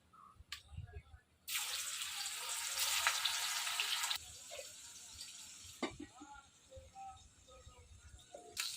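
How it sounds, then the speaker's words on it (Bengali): Pangas fish frying in hot oil gives a bright, loud sizzle that bursts in after a quiet moment, holds for a few seconds, then drops to a softer crackle, with a voice speaking briefly around it. "আমি এবার বাকি মাছগুলো ভেজে নেব।"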